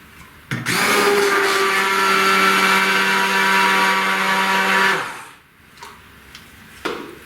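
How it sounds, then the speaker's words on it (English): A handheld blender mixes a basic white lotion in one loud, steady whir of about four seconds, then stops, followed by a few light knocks. "then use my handheld blender again"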